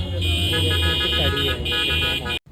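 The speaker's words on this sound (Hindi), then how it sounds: "कार्स की हॉर्न के साथ यहाँ पर ग्रूम एंटर करता है" Car horns honk steadily and loudly amid a festive crowd as a groom arrives at a Mauritian Hindu wedding, layered tones blaring for over two seconds before cutting off abruptly, with voices mixed in.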